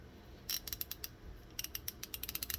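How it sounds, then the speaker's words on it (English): A heavy 1/2-inch ratchet clicks in two separate bursts: a short run of sharp ticks, a pause, then a longer, faster series of crisp metallic clicks, close and clear against a quiet background. "So here's the big boy, big 1/2-inch ratchet, and this thing is heavy"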